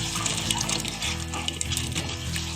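Soaked and washed chana, moong and masoor dal, along with rice, are tipped into a cooking pot with their water, giving a brief, steady wet splash and pouring sound.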